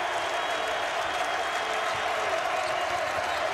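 A home crowd at an Indiana State Sycamores college basketball game against Creighton roars and applauds in a dense, steady wall of cheering that holds loud throughout.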